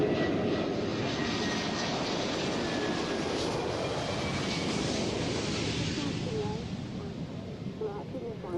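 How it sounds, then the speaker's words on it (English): A Lockheed TriStar airliner roars overhead, a loud, steady broadband jet rumble that holds for several seconds before easing slightly, with no talk over it. "Oh, the TriStar."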